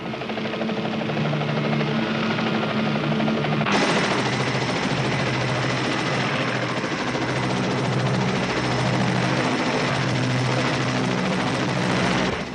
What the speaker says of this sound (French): Il y a un hélicoptère qui se dirige droit sur vous.